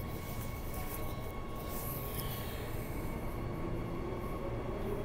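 Perth suburban train on the Armadale to Cockburn Central line departing inside a tunnel, a steady loud rumble of wheels and carriage noise with faint high squeal, continuous throughout.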